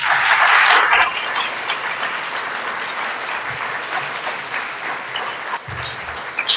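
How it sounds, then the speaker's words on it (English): An awards-ceremony audience gives a closing round of applause for senior community award recipients, a dense burst of clapping that is loudest at the start and then settles into a steadier, softer patter. "One more round of applause as we close"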